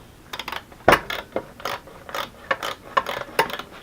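A ratchet with a 10 mm socket clicks on a Yamaha R3 motorcycle: close, uneven bursts of metallic ratcheting strokes with short pauses between them.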